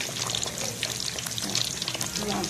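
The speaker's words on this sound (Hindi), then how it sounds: "अभी इसको फ्राई करते हैं। तो शैलो फ्राई यानी ज़्यादा घी डाल के नहीं करते" Marinated fish shallow frying in a little ghee at home, a dense continuous sizzle and crackle heard close up, with faint talking underneath.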